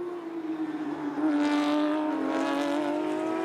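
Porsche Carrera Cup race cars at speed on the Indianapolis circuit, a loud sustained engine roar that swells as a car draws near and holds steady, with no voices over it.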